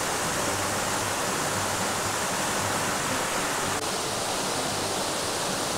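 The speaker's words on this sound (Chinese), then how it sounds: "站在瀑布这边，有非常多的这种负离子，还有风" Dexing Waterfall in Lugu, Nantou, Taiwan pours down in a steady, dense roar of rushing water, close and loud, constant from start to finish with no voices.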